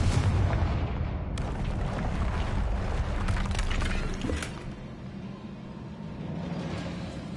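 A Confringo spell blast goes off in the video game Hogwarts Legacy, giving a loud booming explosion with sharp cracks early on, then a rumbling tail that fades to a steady low background.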